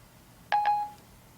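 An iPhone 4S places a call through Siri with a quick pair of bright electronic tones, then a held beep that fades out, clear and close against a quiet background.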